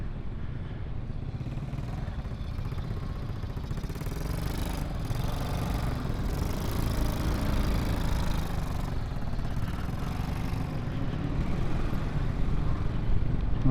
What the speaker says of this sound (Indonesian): Motor sebelah kiri gua kabok banget nih